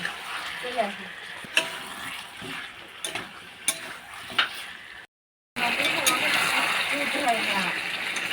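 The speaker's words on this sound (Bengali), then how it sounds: "এটাকে দিয়ে আমি ভালোভাবে কষিয়ে নেব" Chicken stir-fried with meat masala and Kashmiri chilli in a pan, a steady sizzle punctuated by scraping spatula knocks, a short silent gap, then a louder, fuller sizzle, with a voice speaking over parts of it.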